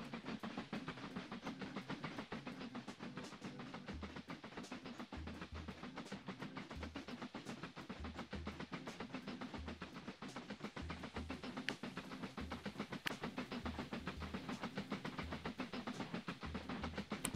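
Train in the railway building game Mashinky rolling steadily along the rails, with a continuous rumble and regular clickety-clack beats of wheels over rail joints, moderately loud and alone without talk.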